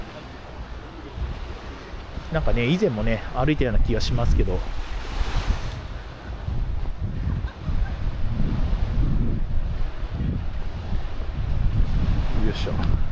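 Surf washing along the beach at Mihama Cape's sand spit in Heda, West Izu, on a clear sunny day: a broad, steady rush of waves with wind buffeting the microphone while someone talks over it.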